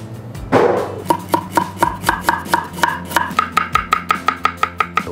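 Knife chopping carrots on a cutting board while making gimbap: a steady run of sharp, evenly spaced thuds that speeds up toward the end, close and clear with no talk over it.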